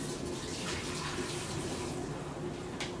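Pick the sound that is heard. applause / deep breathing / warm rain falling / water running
water running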